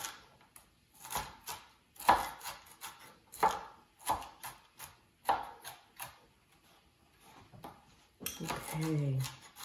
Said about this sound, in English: Let me cut up the celery.